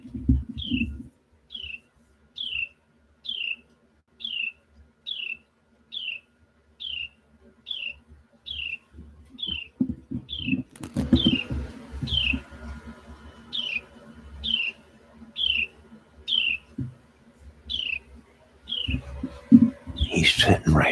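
A bird sings at a feeder just outside a door, repeating a short, high chirp at a steady rhythm about once a second, fairly close and clear over low background noises that grow busier later.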